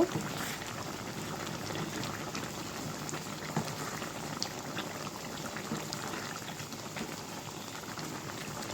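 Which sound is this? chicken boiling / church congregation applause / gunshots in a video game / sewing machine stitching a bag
chicken boiling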